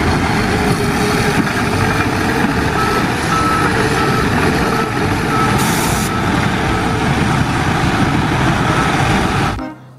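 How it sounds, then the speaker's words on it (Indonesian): Toy dump truck giving off a loud, steady electronic rumble with repeated reversing beeps, running without pause before stopping abruptly at the end. "Yang ini ada mobil dump truck."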